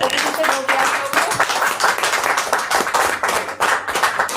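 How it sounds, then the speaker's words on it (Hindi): Loud, sustained group clapping for Yashoda at a training session, dense and steady with a few people talking underneath. "मैं चाहती हूँ यशोदा के लिए जोरदार तालियां होने की"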